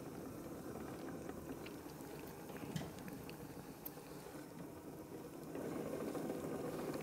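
Pottery wheel turning with wet clay being centred under the hands, a continuous watery whirring rumble that steps up and grows louder near the end as the speed increases.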